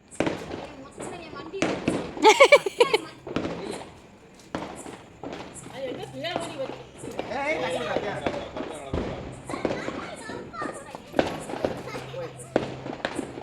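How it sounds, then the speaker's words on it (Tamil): Sharp Diwali firecracker bangs and crackling firework bursts pop repeatedly, some close and loud, while voices talk and call out throughout. "மேல போய் தான் வெடிக்கும்"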